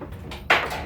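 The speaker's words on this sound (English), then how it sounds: "that sound is the latch at the back of the machine falling into the cabinet" A metal latch drops inside a pinball machine cabinet with a single short clunk and rattle, loud and close after a near-quiet moment.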